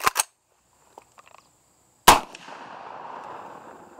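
Sharp close gunshots from a handgun fitted with an HS1 Viridian laser hand stop, several quick cracks at the start and another loud report two seconds later, followed by a ringing, fading echo.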